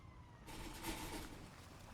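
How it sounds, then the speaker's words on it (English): A police car siren wails behind a moving car, starting abruptly and holding a steady, fairly faint tone for a couple of seconds with no talk. "Out of the blue, they heard a siren behind them."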